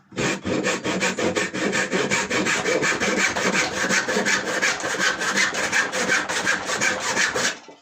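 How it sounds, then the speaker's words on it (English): A small, cheap tenon saw cuts partway through a piece of wood in steady back-and-forth strokes, close and loud, with no talking. "grab my little tenon saw, little cheapy one, and then just going to about halfway through"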